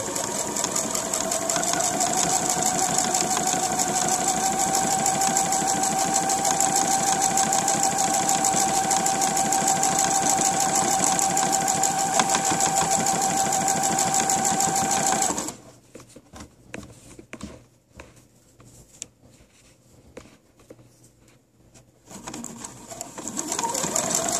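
A sewing machine stitches a dress hem with a fast, steady mechanical whir and rapid needle chatter for about fifteen seconds, then drops to quieter, intermittent handling sounds before briefly starting again.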